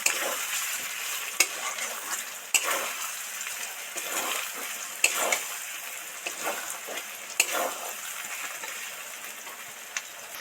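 Continuous sizzling and bubbling of hot oil with ground spices in a pan for a crab curry, with occasional scrapes and taps from stirring, close and steady throughout.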